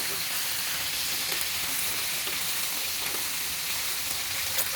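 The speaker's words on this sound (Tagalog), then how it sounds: "So, saglit na prito lang po yung gagawin natin." Loud, constant sizzling of meat frying briefly in a hot pan, a dense crackling hiss with no talking.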